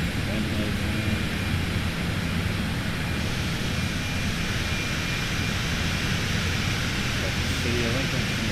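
Steady loud jet engine roar inside an airplane descending toward 10,000 feet and slowing on a Husker football VIP flight, constant broadband cabin noise with a voice talking over it.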